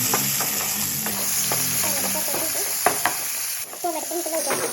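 Tomatoes with salt fry in a pan with a steady close sizzle, broken by stirring scrapes and spoon knocks, and no one talking.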